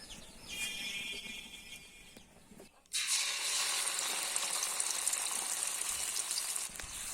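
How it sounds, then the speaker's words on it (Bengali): Homemade pickle spice mix hits hot mustard oil in a pan and bursts into a loud, bright, continuous sizzle that holds steady after a quieter start. "তেলের মধ্যে মশলা এক মিনিটের মতো ভেজে নিব"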